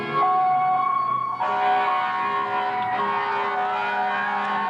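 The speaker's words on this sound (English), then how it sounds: "And here comes the Berkley Public Safety Department fire engines." Fire engine sirens from two Berkley Public Safety Department trucks in a 1988 Christmas parade wail loud and close, with steady rising and falling tones that continue for the whole stretch.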